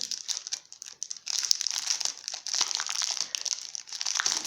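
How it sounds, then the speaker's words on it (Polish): Plastic foil packaging from scrapbooking supplies is handled, giving close, continuous crinkling and crumpling that swells and dips in irregular bursts, with no talk. "No, trochę poszeleszczę, choć starałam się jednak z tych folii powyciągać jak najwięcej."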